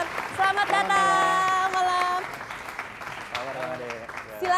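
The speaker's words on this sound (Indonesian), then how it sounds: "Kita berikan tepuk tangan." Audience applause welcoming a guest onto the stage of a televised parody courtroom comedy show, a broad clapping wash running under a loud voice that dominates the first half before it eases.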